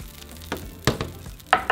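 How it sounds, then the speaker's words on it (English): Dried chile de árbol frying in hot oil for salsa taquera, with a sizzling crackle and a few sharp pops and stirring knocks, close by and with no talk. "We're going to fry chile de árbol."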